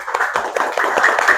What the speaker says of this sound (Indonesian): Boleh dong tepuk tangan dulu untuk kita semua